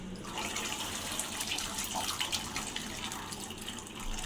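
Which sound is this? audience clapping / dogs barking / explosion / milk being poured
milk being poured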